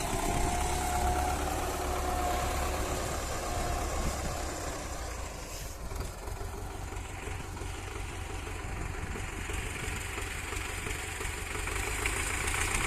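An MTZ-50 tractor engine runs steadily in sixth gear while spreading manure, a continuous loud, close mechanical drone with knocking vibration and no talk.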